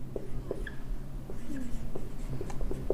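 Someone writes on a board during a Hindi chemistry lesson, producing quick, close, scratchy strokes and taps in short bursts over a low room hum.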